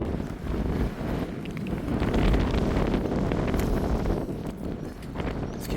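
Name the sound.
wind blowing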